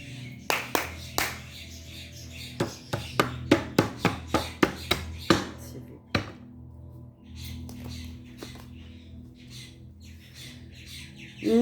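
Birds squawk and clap in a burst of sharp, loud repeated calls early on, then scattered fainter calls follow over a low background rumble.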